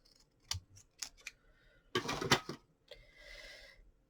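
Scissors snip through card in a few sharp cuts, then a longer burst of crunching cuts, close and fairly quiet.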